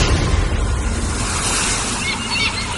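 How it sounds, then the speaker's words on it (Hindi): Sea waves used as a sound effect in a horror audio story, a loud steady broadband wash of surf with gentle swells, heard alone without talk. "सुबह नींद खुली समंदर की लहरों की आवाज से"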